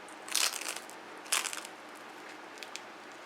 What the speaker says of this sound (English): I'm going to take a bite and let you know.